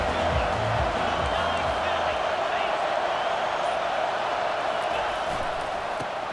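A stadium crowd roars steadily at a college football game between Arkansas and Tennessee, a dense sustained wash of cheering and noise with a commentator's voice faintly underneath.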